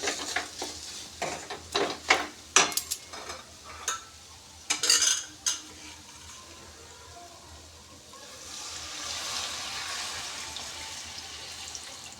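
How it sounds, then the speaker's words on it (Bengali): Stirring carrot sandesh mixture in a pan at home: a run of sharp scraping and clinking strokes of a utensil against the pan, then a softer, steady hiss-like texture, with no talking. "অল্প একটু নাড়াচাড়া করেই"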